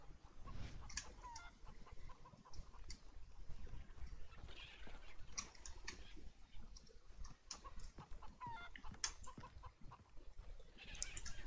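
A chicken clucks repeatedly in the video game Far Cry 3, with short, close, scattered calls over a low ambient background.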